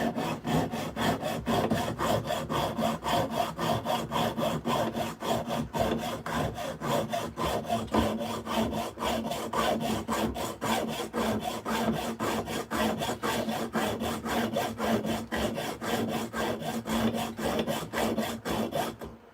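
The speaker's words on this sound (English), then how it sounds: "So this one we'll try just with the hacksaw." Rapid, even strokes of a hacksaw cut through a natural wooden knot burl, a continuous rasping scrape that keeps up a brisk rhythm for the whole stretch.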